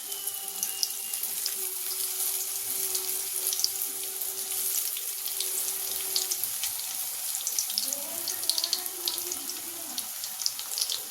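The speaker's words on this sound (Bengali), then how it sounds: "এই চিকেনগুলো ভাজছি" Chicken pieces shallow-fry a few at a time in oil, making a steady, close sizzle full of fine crackles and pops that carries on throughout under a faint low hum.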